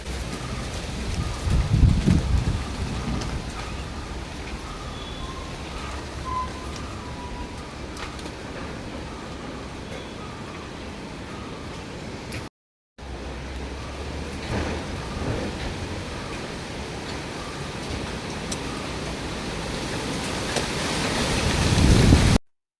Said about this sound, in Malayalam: ചെറിയൊരു കാറ്റും മഴേൻ്റെ ഗോളൊക്കെ കണ്ട് കാറ്റ് പിന്നെ ശക്തി കൂടി കൂടി വരികയാണ്